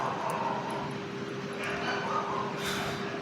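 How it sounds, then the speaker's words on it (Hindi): Dogs barking outdoors at a distance in a quiet neighbourhood, short yips and barks scattered over a steady background hum, with a faint plane-like drone. "एकदम शांत माहौल है पर कुत्ते गजब भौंक रहे हैं भाई"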